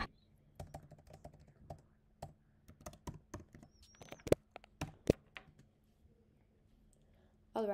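Someone types code on a computer keyboard in bursts of crisp key clicks, some strokes sharper and louder than others, close up in a quiet room with brief pauses between runs.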